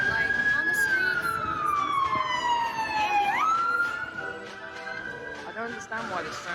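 A police or ambulance siren wails on a city street, its tone gliding down, jumping back up and climbing again, loud and steady throughout while someone talks over it.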